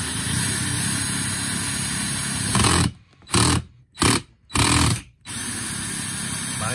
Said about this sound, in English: We're going to go ahead and see if we can't drill down through